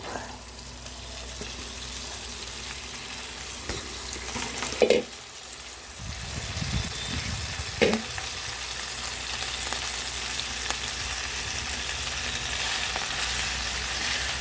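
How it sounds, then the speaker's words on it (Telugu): Ajwain leaves frying in hot oil, a continuous close sizzle with a couple of brief stirring clatters around the middle, fairly soft overall. "మళ్ళీ ఒక పావు నూనె వేస్తున్నాను పావు నూనె వేసి వామాకు"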